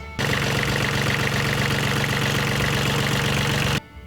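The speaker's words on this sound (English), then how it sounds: "I went and got a 905 Kubota engine today, and this one runs" A Kubota 905 small diesel engine running steadily with a rhythmic knocking chug, loud and close, cutting off abruptly near the end.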